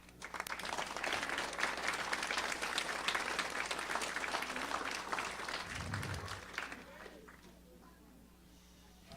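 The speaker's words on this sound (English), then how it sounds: "give a huge round of applause to my staff" Guests at a fundraising gala dinner give a warm round of applause for the staff, lively clapping that holds for several seconds before tapering off, with a brief low thump and faint voices near the end.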